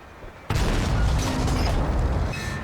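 Main gun of an M60 tank firing in World of Tanks, a single sudden loud boom that cuts in abruptly and then rolls on as a sustained heavy rumble without fading out.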